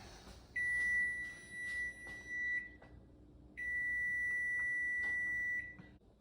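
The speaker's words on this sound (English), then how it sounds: "Keypad shorted. It's gonna beep on us here in a second." Two long, steady electronic beeps from a microwave oven with a shorted keypad, each lasting about two seconds with a short gap between, in an otherwise quiet room.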